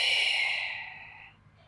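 A long breathy exhale during a beginner Pilates core workout, close and fairly soft, with a steady hiss that fades out over a couple of seconds and no talking.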